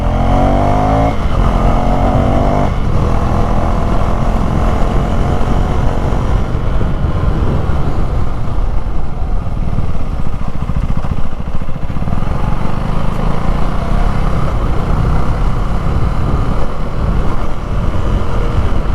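A 2024 Husqvarna Svartpilen 401 motorcycle is being ridden, its engine droning loud and steady throughout with heavy wind rush and no letup.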